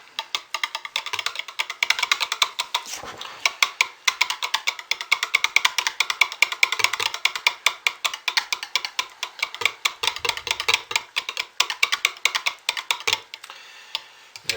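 Spoon stirring fragrance oil into purple soap batter in a container, a rapid steady series of soft close ticking scrapes that stops near the end.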